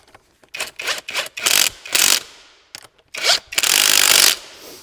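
Wrench work on the bolts of a brake caliper on a Neon SparkZ 48V 1200W electric dirt bike: a series of short, close rasping and grinding bursts in uneven rhythm, with a longer scraping stretch at the end and no talk.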